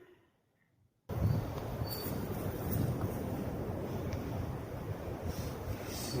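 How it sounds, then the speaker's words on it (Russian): Strong outdoor wind gusts hard against the microphone after a second of near silence, a steady loud roar at dusk beside an unusual stone slab near Azovskaya. "ветер поднялся"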